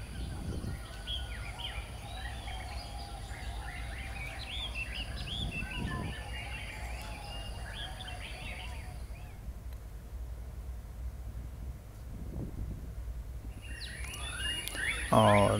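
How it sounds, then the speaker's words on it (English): Many small birds chirping and twittering in a garden park in Ang Mo Kio, Singapore, a busy chorus at moderate distance over steady low background hum, fading briefly before resuming near the end. "It's very nice to sit here and relax and listen. To the birds"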